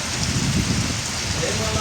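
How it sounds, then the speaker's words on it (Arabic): Heavy rain pours down over a plain in Sahl al-Rouj on the last day of a three-day storm, a dense, steady rush of drops hitting the ground, close and continuous. "أمطار غزيرة"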